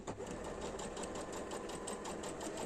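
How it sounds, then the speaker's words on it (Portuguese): A domestic sewing machine runs a straight seam on a small fabric pouch, a close, steady mechanical whir with a fast regular stitching pulse and no pauses. "Vou passar uma costurinha reta."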